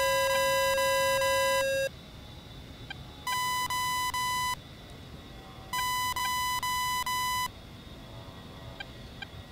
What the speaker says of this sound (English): beepity beep beep beep beep beep